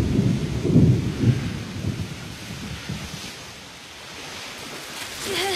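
An anime thunderstorm out at sea: a heavy thunder rumble rolls early, then dies into a steady hiss of rain and surging waves, loud and close without any speech.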